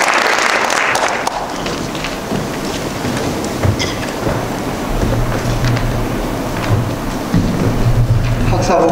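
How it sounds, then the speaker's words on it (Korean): A hall audience claps at a Korean elders' graduate school completion ceremony, producing steady, dense applause that swells and continues for several seconds. "감사한 마음으로 다시 한번 박수를 드리도록 하겠습니다."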